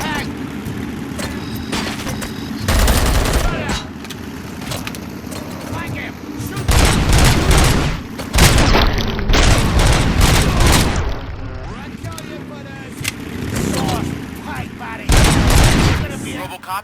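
Heavy firefight gunfire in the RoboCop: Rogue City video game, with bursts of automatic shots and booming blasts rising and falling across the scene, loud and close, while voices shout over the combat.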